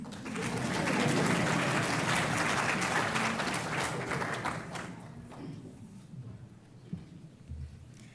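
Audience at a Faculty of Science public lecture claps hands for the welcome remarks: loud, dense applause for about five seconds that thins out into a few scattered claps.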